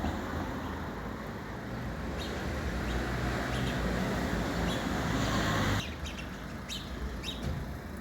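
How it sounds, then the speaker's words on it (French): Steady traffic on a nearby road with cars passing in a continuous stream, a broad rushing hum that drops noticeably near the end, with faint bird chirps over it. "Les quelques voitures."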